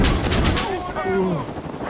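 Gunfire in the Vietnam-era shooter game Rising Storm 2, heard as loud, dense bursts of shots crowding together near the listener with a faint voice mixed in.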